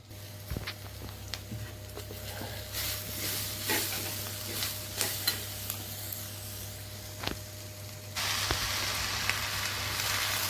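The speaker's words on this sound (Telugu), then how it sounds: "చెంచాడు అల్లం వెల్లిపాయ, చిన్న చెంచాడు పసుపు, 1/2 చెంచాడు ఇంగు, పచ్చివాసన పోయేదాకా కలపాలి." Ginger-garlic paste, turmeric and asafoetida being stirred in a pan for ivy gourd curry, giving a steady soft sizzle with scraping stirs throughout, brightening into a louder, fuller sizzle near the end; no talking.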